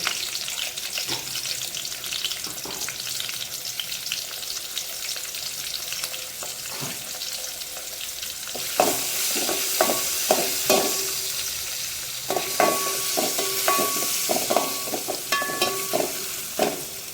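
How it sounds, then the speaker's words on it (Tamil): Tomato and fennel powder sauté in oil in a pan, with a constant sizzle and repeated spatula knocks and scrapes that grow busier and louder toward the end, no voices. "கொஞ்சம் வதங்கட்டும்"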